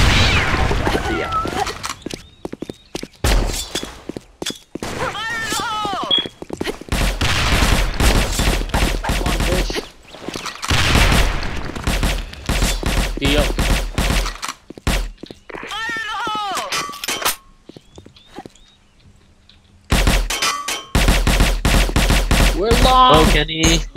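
Bursts of automatic gunfire from a Call of Duty match, rapid fusillades repeating through the clip with brief quiet gaps, mixed with players talking over the action.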